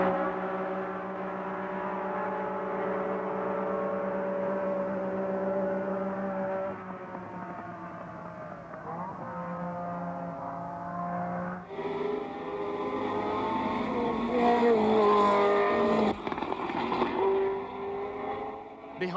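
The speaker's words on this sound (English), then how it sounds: "The two cars still race nose to tail." Formula One cars racing at the 1970 South African Grand Prix at Kyalami, a loud sustained engine drone with shifting pitch as the cars run nose to tail, rising sharply in the later seconds.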